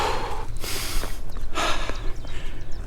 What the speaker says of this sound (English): I'm puffing and panting because that was quite steep just before that bridge